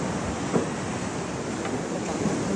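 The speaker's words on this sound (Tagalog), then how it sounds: "Oh, grabe ang laki ng alon guys." Big ocean waves surge and break on the shore at Siargao, a continuous loud roar of surf with wind buffeting the microphone throughout.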